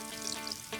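Salmon frying in a pan, a short steady sizzle close by with no voices.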